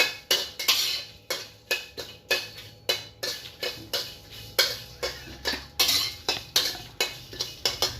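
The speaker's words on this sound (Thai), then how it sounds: "คั่วไปเรื่อยนะครับให้ พริกหอม นะครับให้พริกแห้งมันหอมนะครับ" Dried chilies and Thai herbs dry-roasted in a pan, heard as a fast, regular series of metallic scrapes and clinks from a utensil against the pan, close and continuous with no voices.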